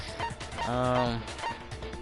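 Honking, fowl-like call of the chicken in the Danganronpa video game, a drawn-out harmonic squawk in the middle of the clip over faint game background.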